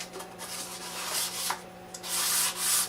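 A wooden golf ball setter being sanded by hand to knock down raised nubs between finish coats: steady, close abrasive rubbing with a few rhythmic strokes, rising louder near the end, with no talking.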